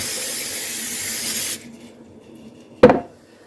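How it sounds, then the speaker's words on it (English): A steady hiss of nonstick cooking spray from an aerosol can for about a second and a half, then quiet and a single sharp clack. "I'm going to spray my bowl. I'm going to spray my spoon."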